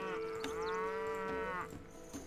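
A single long cow moo from livestock in the castle-building strategy game Stronghold HD, a clear sustained low call lasting over a second, followed by faint soft background sounds.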